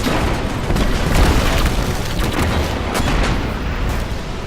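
Tanks blow up in Destiny 2 with deep, loud rumbling blasts. The booms roll one into the next over a few seconds, and no voices are heard.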